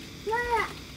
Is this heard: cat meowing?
yes